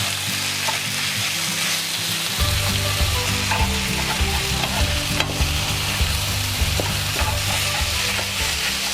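Beef and thien ly flowers stir-fried over high heat in a pan, loud continuous sizzling with a crackly hiss and repeated stirring scrapes, close up and without talk.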